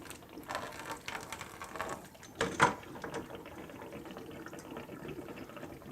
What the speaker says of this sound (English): we're just going to open both valves. And you'll see it start to drain.